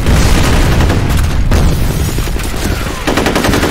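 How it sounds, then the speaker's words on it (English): A grenade blast in the video game F.E.A.R. booms loud and close, rolling into a dense burst of gunfire and repeated pops that carry through the whole stretch with no pause. "Grenade out!"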